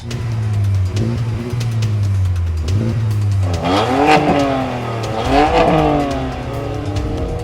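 A sports car engine holds a steady drone at 3,500 RPM under launch control, then revs hard and accelerates through rising gear pulls, loud and close, with no voices.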